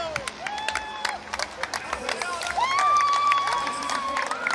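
Spectators at the transition of the Hawaiian Ironman World Championship men's race cheer, clap and whistle, the noise rising into a sustained roar as athletes arrive, with an announcer talking over it.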